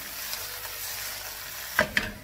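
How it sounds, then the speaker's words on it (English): Okra and onions stir-fry in a hot wok, a soft hissing sizzle that swells into two sharp scraping tosses near the end, close and alone. "we're gonna go ahead and put in the okra. Stir that around in the wok."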